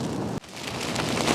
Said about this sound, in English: it's pretty mad outside at the moment. It is lashing rain